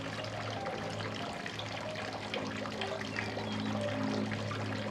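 Thick strawberry lamington cake batter pours steadily into a baking dish, a soft continuous flow with a low hum underneath.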